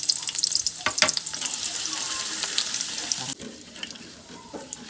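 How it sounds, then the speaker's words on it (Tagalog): Crushed garlic sautés in hot cooking oil, a steady broadband sizzle with occasional stirring clicks, louder at first and then settling into a quieter fizz. "Yun, maglagay na tayo ng mantika mga idol. Gisa na natin yung bawang. Durog na bawang."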